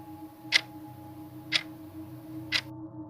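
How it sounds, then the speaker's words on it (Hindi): A living room clock ticks three times at even one-second intervals, each tick crisp and distinct over a steady low hum in a quiet farmhouse interior. "लिविंग रूम की घड़ी की टिक टिक"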